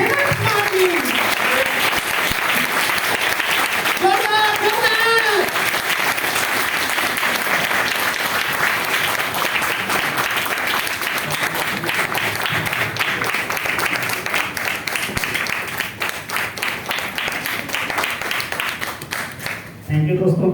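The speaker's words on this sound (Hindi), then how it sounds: "आप लोगों की जोरदार ताली दीजिए मिस्टर हेमंत कुमार जी" An audience at a business plan presentation gives sustained, loud applause for an introduced guest, with a brief voice early on and the clapping tapering slightly before the end.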